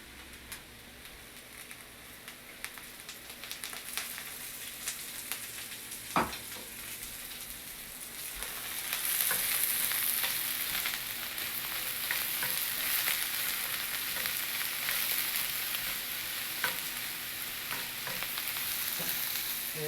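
Oil crackles and sizzles steadily in a dry frying pan, a dense hiss that swells louder about halfway through as more oil goes in, with occasional sharp pops and ticks and no voices.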